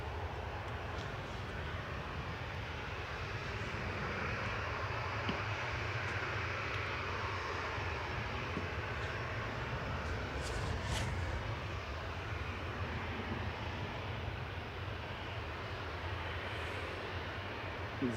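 An EasyJet airliner arriving from Amsterdam lands at Manchester Airport amid a continuous, moderately distant roar of engines and wind noise, holding level throughout with no talk.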